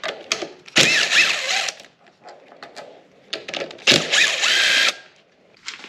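Power drill backing out 10mm bolts on a Suzuki DRZ400 motorcycle: two loud close bursts of whirring, each about a second long, separated by quieter clicks and handling noises.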